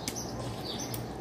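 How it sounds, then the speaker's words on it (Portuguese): Songbirds outdoors chirp in a couple of short, bright tweets over a soft hum of background ambience, brief and fairly faint, with nobody speaking. "Olha os passarinhos cantando"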